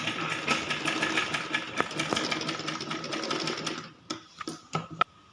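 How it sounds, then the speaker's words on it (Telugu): A sewing machine stitching the seams of summer baby shorts, a fast, close, steady mechanical whir that runs for a few seconds and then stops, followed by a few isolated clicks and knocks. "ఈ సైడ్ కూడా సేమ్ ఇదే విధంగా స్టిచ్ చేసుకోవాలి"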